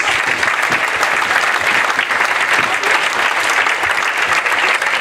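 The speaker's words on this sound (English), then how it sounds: "So can we give them all a massive round of applause?" A large crowd at a school academy awards evening in a marquee gives a loud, dense round of applause, a continuous wash of clapping that holds steady for the full five seconds.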